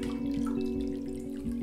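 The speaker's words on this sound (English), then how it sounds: "If you take a pitcher full of water and you start to pour it into a cup" Water poured steadily from a pitcher into a cup, a continuous close trickling and splashing stream that runs alone without pause.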